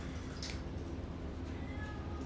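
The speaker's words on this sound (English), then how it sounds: "Oh, there's kitty cat." A cat meows faintly beneath a low, steady rumble of background noise, with brief higher cries over a couple of seconds.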